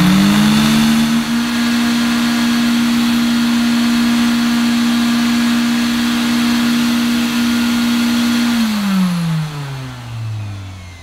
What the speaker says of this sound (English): I'll turn the motor down so it's a little bit quieter.